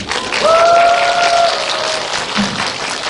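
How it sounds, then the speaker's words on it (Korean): An audience claps at a cinema talk with actor Ryu Jun-yeol at CGV Piccadilly, a loud, continuous round of applause with a brief whistle-like tone rising over it early on. "박수 한번."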